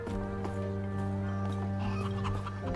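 A chicken in the video game Last Epoch clucks in short irregular bursts, faint under steady droning game music.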